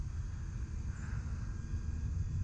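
E-Flite Clipped Wing Cub RC airplane flying at about half throttle, its electric motor and propeller giving a steady, continuous drone with low rumble throughout, moderately loud and heard alone without talk.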